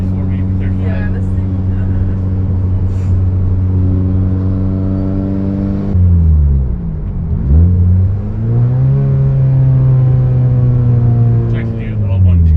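A 700 WHP Mitsubishi Evo with a six-speed, running about 40 pounds of boost, pulls hard and loud with a steadily climbing engine note. A sharp drop at the gear change follows, then the engine winds up again through the next gear.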